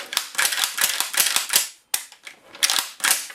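Pump-action cycling of a Revo tactical shotgun during a function check after reassembly: a quick series of sharp mechanical clacks and clicks, close up, with a brief pause midway.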